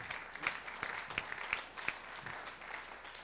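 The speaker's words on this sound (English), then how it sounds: "I was going to ask that we applaud and thank them, and you all did that for me." Applause from an audience at a candidates' event, thanking staff and police officers, comes through fairly faint and distant, with a few sharper individual claps standing out from the soft wash.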